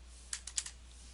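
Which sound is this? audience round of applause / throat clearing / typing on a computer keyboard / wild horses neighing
typing on a computer keyboard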